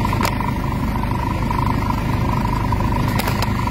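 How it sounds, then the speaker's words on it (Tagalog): A Mitsubishi Adventure engine with low RPM and poor pull idles during a dredging treatment, giving a steady, even low rumble close by with a faint constant whine on top and brief ticks. "i-idle muna natin yung makina"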